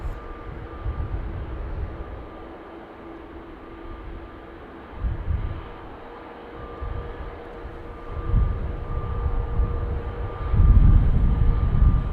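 An American Airlines Boeing 777 from Dallas arriving at Dublin Airport's north runway produces a low engine rumble that swells in several surges and grows louder toward the end, heard alone.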